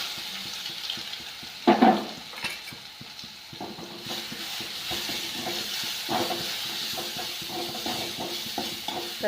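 Green chili and garlic paste fries in hot oil in a pan, a steady sizzle and hiss with scraping stirs and occasional clinks of the spoon against the pan, close and continuous.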